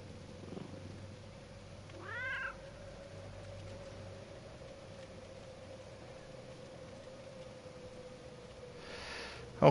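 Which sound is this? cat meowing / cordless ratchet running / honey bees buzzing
cat meowing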